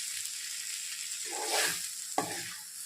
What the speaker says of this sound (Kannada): ಧನಿಯಾ ಪುಡಿ ಹಾಕ್ಕೊಂಡು ಅದನ್ನು ಈ ರೀತಿಯಾಗಿ ಮಿಕ್ಸ್ ಮಾಡ್ಕೊಳ್ಳಿ